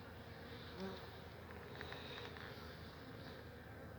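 A steady, dense buzz of many honey bees close by at a hive during a pre-winter hive check in September, continuous and unbroken for the whole stretch.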